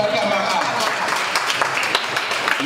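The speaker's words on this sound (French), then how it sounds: "Coach Demba Kamara, des applaudissements pour coach Demba Kamara." Audience applause at a free training event on entrepreneurship, digital marketing and cybersecurity, welcoming a coach; steady, dense clapping fills the whole moment with crowd noise mixed in.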